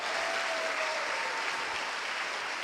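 Dense, steady applause from a crowd, sustained throughout with a thin whistle-like tone briefly audible in the middle.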